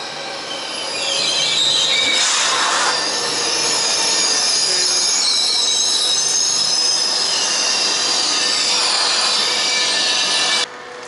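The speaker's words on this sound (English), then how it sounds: "Here comes the train." A Zurich train rolls into a station in Switzerland with a loud, sustained rumble and high metallic wheel squeals rising and fading, no voices.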